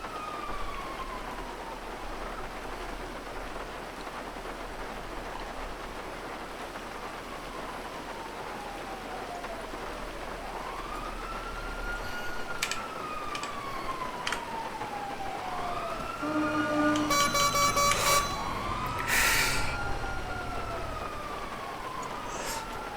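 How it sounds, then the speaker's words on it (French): Police sirens wail in a roleplay video game as they approach Little Seoul, long rising and falling tones sweeping over steady rain-like hiss, growing louder and layering as more sirens join near the end. "C'est toi les sirènes qui se rapprochent de Little Seoul?"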